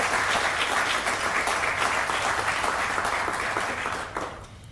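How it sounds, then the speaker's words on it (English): Sustained applause from an audience honoring school board members at a teacher of the year celebration, a dense steady wash of many hands clapping that tapers off near the end. "please give them a round of applause"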